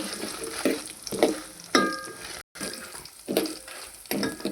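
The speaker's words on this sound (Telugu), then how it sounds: "ఆ తర్వాత ఎండుమిర్చి, వీటిని కూడా ఫ్రైలో చేసుకోవాలన్నమాట." Dried red chillies fry in a pan, giving a soft, continuous sizzle broken by rhythmic scraping stirs every second or so, close and moderately quiet, with no talking.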